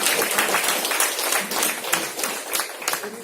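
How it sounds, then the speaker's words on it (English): An audience at a panel discussion breaks into applause, a dense, fairly close wash of many hands clapping that holds steady for the whole few seconds. "So can we have a huge round of applause?"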